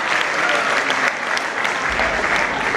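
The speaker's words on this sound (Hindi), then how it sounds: "जोरदार तालियों से स्वागत करें।" An audience at a comedy show in Pusad breaks into strong, steady applause to welcome a performer, with dense clapping filling the clip throughout.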